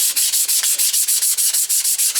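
Steady, rhythmic hand sanding on a wooden foundry pattern, a brisk scratchy rasp repeating about every fifth of a second, close and fairly loud.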